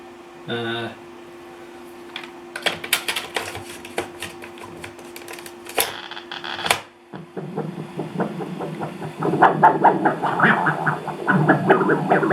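Vintage 8-track tape player powering on and driving a tape, with clicks and mechanical clunks, a steady motor hum, then a busier whirring and rattling playback mechanism, with someone speaking over it.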